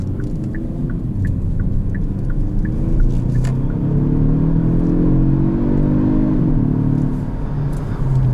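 A Kia four-cylinder twin-scroll turbo car engine revs up and holds a deep, rising growl close by, with faint rhythmic chiming beeps at the start.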